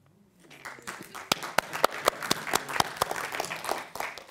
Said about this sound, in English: you started clapping first